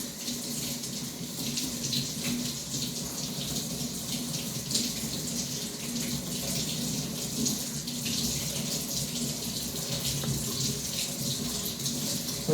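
Cold water runs steadily from a kitchen tap into a PUR basic pitcher, a constant moderate splashing hiss that holds without a break for over twelve seconds.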